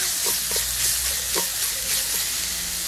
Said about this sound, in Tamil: இஞ்சி போட்டு கருவை போட போகிறேன். கொஞ்சம் நேரம் வதங்கட்டும்.